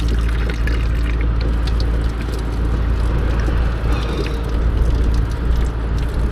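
Warm water running steadily from a tap for washing dirty hands outdoors, a continuous close splashing pour with some wind.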